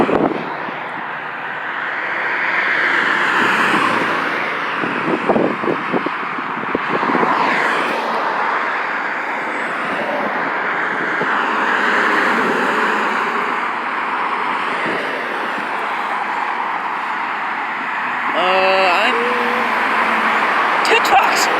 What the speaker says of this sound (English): Two trucks. Two of them. And behind one another.